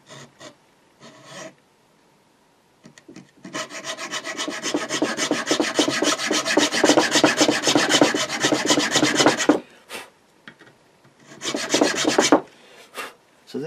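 A saw or file rasps steadily across the wooden nut slot of a handmade guitar, one close, loud cut of about six seconds with short strokes before and after.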